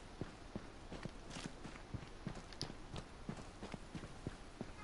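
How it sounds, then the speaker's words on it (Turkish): Footsteps in the battle royale game H1Z1 on PS4 thud in a steady, evenly spaced walking rhythm, faint and somewhat distant, about a dozen steps over a hissy background. "Oğlum sanki ayak sesi duyuyorum."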